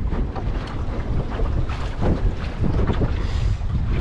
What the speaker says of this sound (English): we have definitely picked up some gusts now. Really gusting.